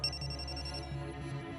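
A mobile phone rings with a steady, repeating electronic tone, moderately quiet and alone, with no voices over it.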